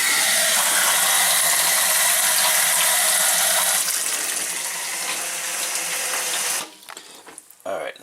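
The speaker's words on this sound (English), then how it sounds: "I think just run some water and test it out." Water runs steadily into a kitchen sink to check a newly installed Badger 100 1/3 horsepower garbage disposal for leaks, a loud continuous splashing rush that shuts off near the end, followed by a few faint clanks and handling noises.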